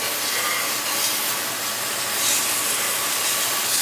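A spray nozzle cleans the wheels of a laboratory roller mill (pulverizer), making a continuous, even, fairly quiet hiss that stays steady throughout with no talking.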